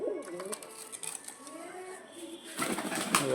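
A female Kalchira pigeon coos softly in a few low, wavering calls, with a light clatter near the end and a voice speaking nearby.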